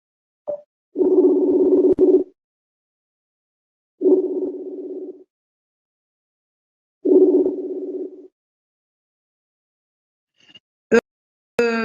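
Phone video call ringing tone, three long identical electronic tone bursts about every three seconds with silence between, loud and clean, followed by brief chirps at the end.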